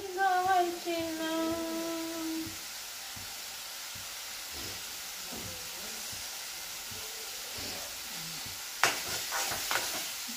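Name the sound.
surmai fish frying on low gas flame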